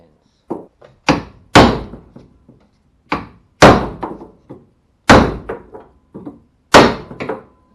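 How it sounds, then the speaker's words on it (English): Hinge pins being knocked out of a 1979 Trans Am door with hammer blows, a series of sharp metallic thunks in irregular groups with short rebounds and pauses between them. "I can now start knocking out these pins."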